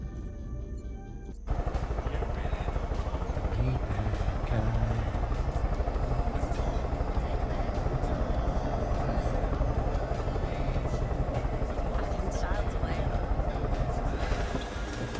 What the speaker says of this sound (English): We'll just let the helicopter slide down the hill, shall we?